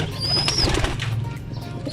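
A burst of young pigeons' wings flapping close by at a loft, mixed with a high whistle-like tone and a low rumble of coos, then fading into a busy background.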